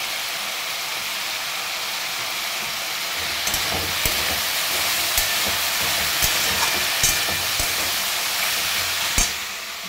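Whole spices and turmeric fry with diced potatoes in a pan for a Bengali home dish. After a quiet start, a steady sizzle rises and continues, with a few sharp clicks of stirring.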